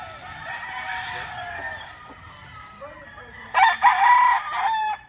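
A Dan Gray gamefowl rooster crows at a Tagum City gamefarm, a bright drawn-out call near the mic, followed by a second, louder burst of crowing with other fowl faint behind it.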